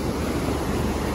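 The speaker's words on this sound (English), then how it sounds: "this is so therapeutic also, like the sound of the ocean." Ocean surf on the beach at Watamu, Kenya, heard as a brief, steady roar of breaking water mixed with wind buffeting the microphone, close and fairly loud with no talking.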